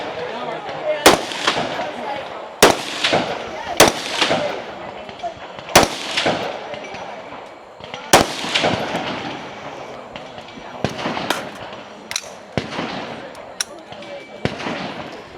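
Sharp pistol shots crack at a women's tactical shooting competition stage, fired one by one at irregular intervals, loud and close, with echoing tails and some background movement between them.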